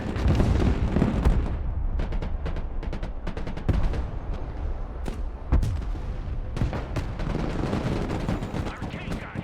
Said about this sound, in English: Our tank got hit.